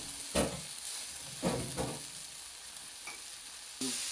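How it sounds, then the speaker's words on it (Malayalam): Food sautéing in a pan until browned: a quiet steady sizzle with a few soft stirring scrapes, close and faint, with no talking. "നല്ലപോലെ വഴണ്ട് കളറ് മാറി ബ്രൗൺ കളറായി"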